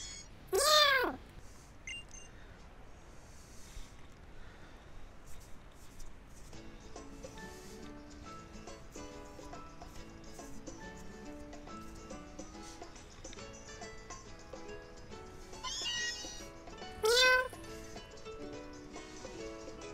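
Meowth, a Pokémon in Pokémon Moon, gives two short rising-and-falling meow cries, one at the very start and one near the end, both loud and clear over soft, steady game music.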